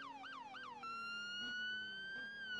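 A police car siren in the Roblox game ER:LC. It starts with a fast, rising-and-falling yelp wail, then switches to a long, steady tone. The siren is loud and close, with no talking.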